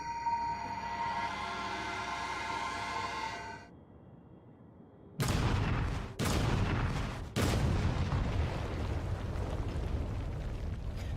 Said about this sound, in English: Oh god, it's gonna be an explosive. Yay, kaboom!